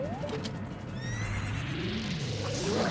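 Ganondorf's horse in Ocarina of Time lets out a loud, close whinny over game noise, with faint hoof clatter beneath it.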